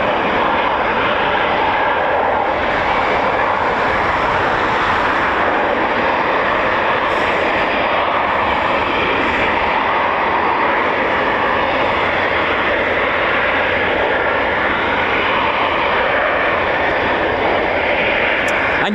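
A Eurofighter Typhoon FGR4 jet flies at RAF Coningsby, a loud, unbroken engine roar that holds steady throughout.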